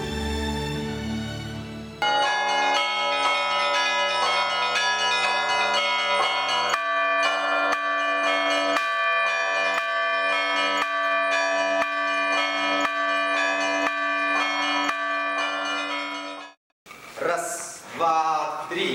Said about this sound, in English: their trembling and friction against the other create a powerful and rich sound, for which the bells are so valued.